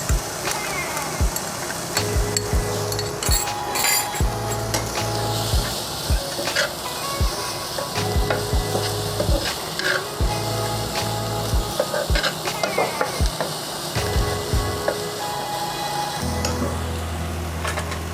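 Green chilli fries in a pan with a continuous sizzle, interrupted by repeated scraping stirs of a utensil against the pan, close up and fairly quiet.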